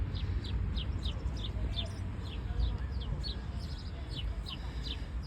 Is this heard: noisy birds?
yes